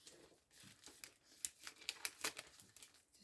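Clear craft paper being snipped with old scissors and crinkled, a quiet run of close crackling and rustling with sharp little cutting ticks.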